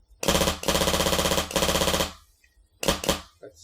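Polar Star airsoft gun fitted with a Universal Gas Stock firing full auto, three rapid buzzing bursts of shots, the last one short, close and loud with no talk.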